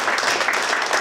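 An audience claps warmly as a woman is welcomed onto a stage, with dense, steady applause filling the room at close range and no break in the clapping.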